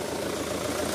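Diesel engine of a KIA Carnival idling with its revs sagging, a steady close rumbling drone with slight knocking texture, while a person talks over it.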